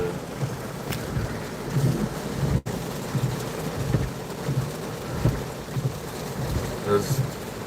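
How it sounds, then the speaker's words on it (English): Heavy rain pours steadily during a June storm, with wind gusting over open grass and bushes, a dense close roar of downpour throughout with a sharp dropout partway through. "There's just so much rain."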